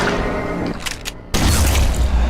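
Movie gunfire aimed at an alien pod: loud booming blasts with a short crackling burst, a brief lull, then a heavy rumbling bang carrying to the end.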